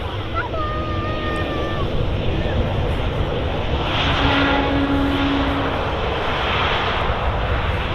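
An airliner going around at Manchester Airport, a loud sustained jet engine roar that swells slightly midway, with a brief whistling and some wind, and people talking faintly beneath it.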